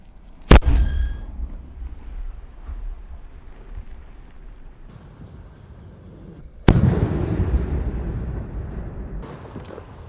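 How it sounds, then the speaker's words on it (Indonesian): Firecrackers explode in a hole dug in the ground: a sharp crack early on, then a second, heavier blast several seconds later with a long rumbling tail, and faint rustling in between. "eksperimen menyalakan banyak sekali mercon petasan di lubang tanah"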